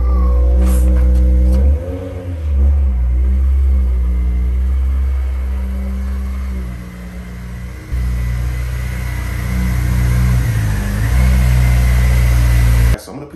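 A car engine runs steadily with a low rumble and brief revs as the car is turned around, loud and close throughout.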